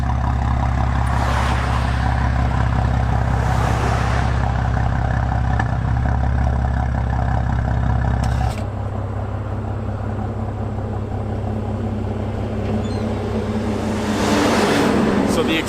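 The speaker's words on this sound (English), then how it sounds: "As you can see right now, the idle is very, very low as compared to the last time it was idling" A BMW M4 fitted with RK Tunes downpipes and an FI exhaust idles with a deep, steady burble. Partway through, the low rumble drops noticeably quieter and settles into a softer idle.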